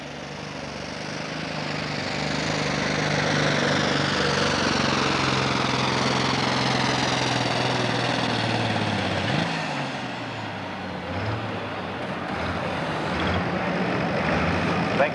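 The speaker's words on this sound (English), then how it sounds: "It's an old D21. Diesel powered from Sweet Springs, Missouri." An old D21 diesel tractor roars loudly under load at a 1995 super stock tractor pull in Cape Girardeau, Missouri, the engine note rising and shifting, then dropping around midway before straining again, with a crowd and announcer faintly under it.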